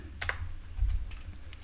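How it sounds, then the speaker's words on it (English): Fingers type on a computer keyboard in short bursts, a few close, clear key clicks with brief pauses between them and no talking. "I'm just going to type in add currency"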